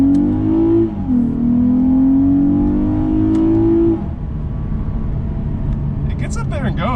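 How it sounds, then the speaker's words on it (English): A Lexus RC 350 F Sport AWD V6 accelerates from inside the cabin, its engine note climbing steadily through a gear, shifting with a brief dip, then dropping away as a voice starts talking. "We'll utilize the paddle shifters, and we'll see just how quick this car shifts"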